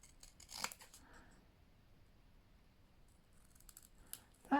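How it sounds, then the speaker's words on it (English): Scissors cutting a paper bookmark shape out of scrap paper, a few crisp snips close by, separated by quiet pauses, with a sharper snip at the end. "I'm going to cut this now with my scissors just inside my line"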